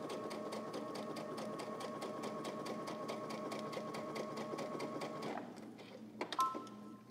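Sewing machine running gathering stitches on fabric, a fast, even rhythmic needle clatter that runs steadily for several seconds, then stops, followed by a few faint handling clicks.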